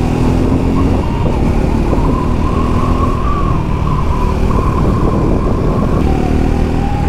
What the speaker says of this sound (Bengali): এই বাইকের এক্সস্ট নোটটা এতটা সুন্দর না, বেশ মজা লাগছে কিন্তু বাইকটা চালাতে আমার।